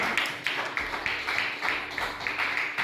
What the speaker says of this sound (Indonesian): Berikan tepuk tangan dulu yang meriah ya